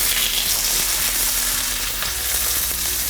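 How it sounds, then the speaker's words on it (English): Grass-fed beef mince browning in a pan, a loud, dense, continuous sizzle that stays steady throughout, with a brief shift partway through as the meat is turned, and no speech. "let it go a little bit brown underneath, turn it over, and then break it up into pieces."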